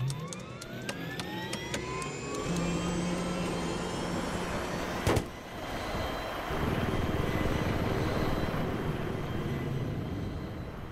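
AH-1Z Viper attack helicopter in Battlefield 3 on Kharg Island: loud, continuous rotor and turbine roar with rising whines and a sharp burst midway, then steady engine drone with no talking.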